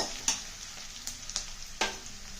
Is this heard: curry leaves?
yes